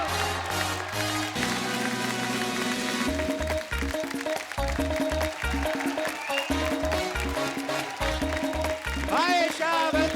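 Studio audience on a Hindi comedy talk show applauds as actress Esha Deol is welcomed on stage, a loud, steady wash of clapping over music that runs the whole stretch with a host's voice over it.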